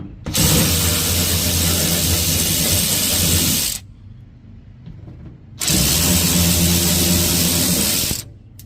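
Power tool whirring steadily while backing out 8mm screws from the top of a Dodge Ram 1500 strut during a lift kit install, two loud sustained bursts separated by a short pause.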